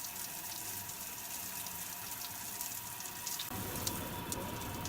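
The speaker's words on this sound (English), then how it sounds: "and this is hot water. It's too hot actually." Hot water runs steadily from a shower, a continuous broadband hiss that grows fuller and louder partway through, with no talking.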